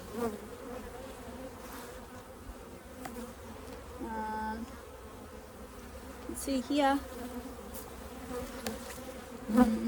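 Honeybees buzz around an opened top bar hive full of brood during a hive check, a continuous soft hum with individual bees droning closer now and then, under occasional quiet speech.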